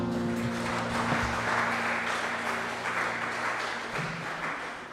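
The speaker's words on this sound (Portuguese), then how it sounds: "as palmas louvam ao Senhor" A church congregation applauds during a live worship service, with steady, dense clapping that holds for the full stretch and sustained musical tones sounding underneath.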